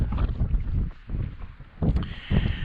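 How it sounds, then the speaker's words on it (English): Gusty wind on Wetton Hill rumbles against the microphone in uneven bursts, close and fairly loud, with no clear talking. "it's windy, as you can probably tell"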